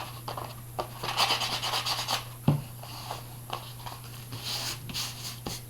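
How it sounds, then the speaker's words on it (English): Close, dry rubbing and rasping strokes come in uneven bursts with small knocks between them as the edges of a mixed media art background are sanded clean. No one speaks. "sanding the edges so that they're nice and clean"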